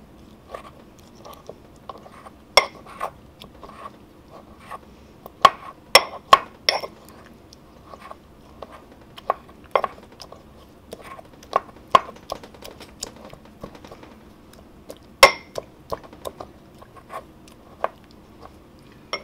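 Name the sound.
crushing ingredients together into a paste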